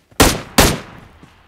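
Two loud, close gunshot bursts from an M16 burst rifle in a video game, each a sharp blast with a short decaying tail, followed by a faint distant pop.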